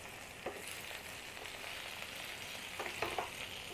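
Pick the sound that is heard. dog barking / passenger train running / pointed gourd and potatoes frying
pointed gourd and potatoes frying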